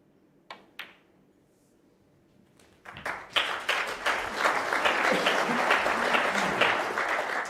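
A knowledgeable Crucible crowd at a World Championship snooker match breaks into applause after a few isolated claps, building into sustained, dense clapping that fills the hall.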